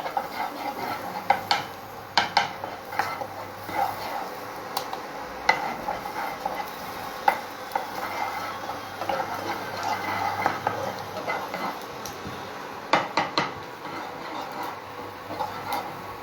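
Sliced and minced garlic fries in butter with a soft, steady sizzle, while a utensil scrapes and taps against the pan in irregular clicks and stirs throughout, no talking.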